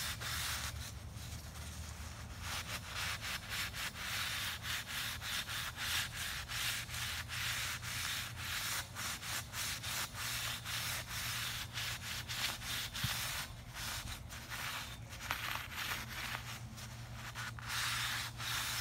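Continuous rubbing and scrubbing of rust off a chrome metal storage rack with soap, a steady close-up abrasive scratching in quick back-and-forth strokes, with no talk.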